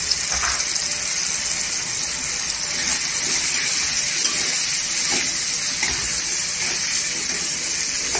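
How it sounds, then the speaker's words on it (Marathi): Dry spice powders (Kashmiri red chilli, turmeric, coriander) sizzle in hot oil for a dried-prawn sukat dish, a loud continuous frying hiss with no pauses, close up. "पूर्णपणे मसाले तेलावर परतून घ्यायचा"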